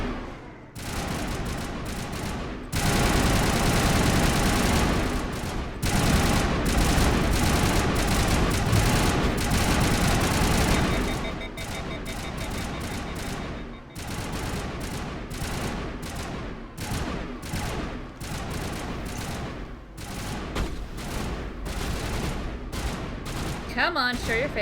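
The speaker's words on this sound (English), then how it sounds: "I don't know what gun I'm using, but I like it. It's the assault rifle." Assault rifle fire in Mass Effect Legendary Edition, dense sustained bursts of automatic gunfire with pauses between volleys, loud and close, mixed with game effects and a voice talking at times.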